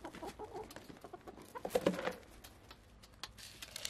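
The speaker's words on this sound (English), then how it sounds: "I really spoil these chickens." Backyard chickens cluck close by in scattered, uneven bursts, with soft scratching and shuffling between calls and no talking.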